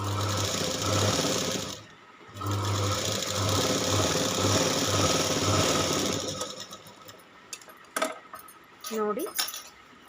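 Sewing machine stitching the back neck of a blouse, a loud steady whirring run broken by a brief pause, then stopping into quieter handling clicks and rustles near the end.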